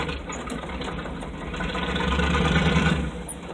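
A Chevy K5 Blazer grinds through mud in two-wheel drive, its engine a low, steady rumble at a moderate distance that swells slightly then eases back.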